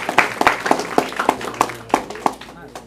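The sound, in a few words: audience applause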